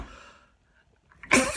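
A single loud, sharp sneeze bursts out near the end after a quiet stretch, preceded by faint breathing and rustle.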